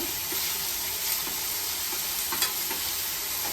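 Garlic, chilli and ginger sizzle in a pan with oil while being stirred, as part of a paneer vegetable curry. There is a soft continuous frying hiss with occasional scraping stir sounds, close and fairly quiet.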